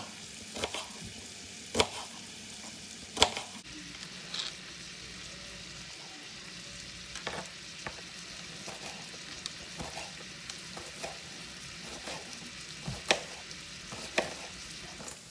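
Bacon frying in a skillet gives a steady soft crackle, with sharp pops and utensil clicks scattered across it and no talk.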